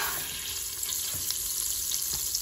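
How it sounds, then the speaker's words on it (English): Rice-A-Roni pasta and rice poured into melted butter in an Instant Pot, giving a steady close sizzle and rustle with faint clicks and scrapes, no talking. "So at this point, I'm going to add rice-a-roni."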